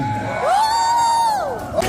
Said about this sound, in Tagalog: Isang malakas na sigawan.